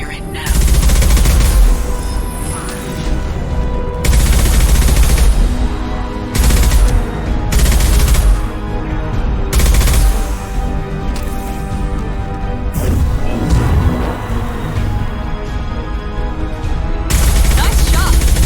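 Gunfire in the video game Mass Effect 2 comes in loud, dense bursts of shots. Short pauses separate the bursts, and game sound fills the gaps between them.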